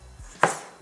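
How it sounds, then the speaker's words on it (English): A knife cuts tomatoes into quarters on a cutting board, one crisp close chop after a soft thud. "And then I'm just going to give the tomatoes a cut here, cut them into"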